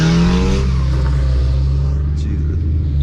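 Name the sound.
Ford Mustang engine revving while drifting in the rain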